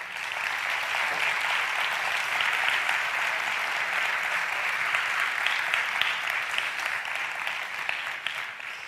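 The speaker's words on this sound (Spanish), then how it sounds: "Un fuerte aplauso." Studio audience applause during a 1990s televised debate on drug legalisation, dense and continuous clapping that holds at an even level throughout.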